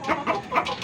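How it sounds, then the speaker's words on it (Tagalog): Large chickens clucking close by in a few short, repeated bursts. "Meron ako ditong malaking manok."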